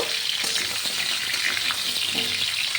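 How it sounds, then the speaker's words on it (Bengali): Raw mango pieces fry in hot oil with panch phoron and dried chili, a steady close sizzle with light stirring scrapes throughout. "তার মধ্যে দিয়েছি পাঁচফোড়ন আর শুকনো লঙ্কা দিয়ে আমগুলোকে আমি ঢেলে দিয়েছি"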